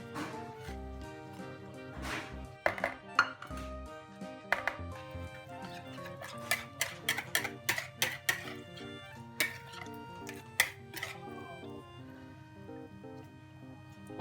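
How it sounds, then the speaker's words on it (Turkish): Sautéed leek and carrot are tipped into a dish for a vegetable börek, making a series of clinks and scrapes of a utensil against cookware over a steady background of music. "Sotelediğim pırasa ve havucumu ekliyorum."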